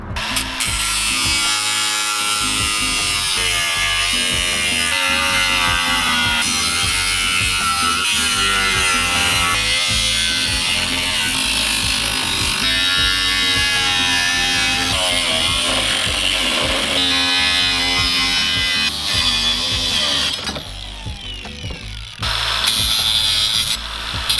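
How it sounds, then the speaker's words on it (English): A power tool cuts 1/8 inch angle iron into small spacer sections for an overland teardrop trailer build, a loud continuous grinding whine lasting over twenty seconds with a brief dip near the end, close up and without speech. "So I'm gonna cut that into little sections to have as a spacer on these middle beams here."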